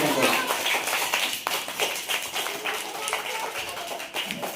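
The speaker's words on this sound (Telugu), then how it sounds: "క్లాప్స్ కొడతాం." An audience claps at a school annual day as a guest is invited onstage, a brisk patter of many hands running through the clip with a voice speaking over it.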